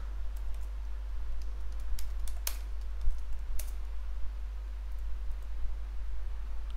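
Typing on a computer keyboard, close and fairly quiet, with scattered key clicks and a few sharper taps over a steady low electrical hum, no talking.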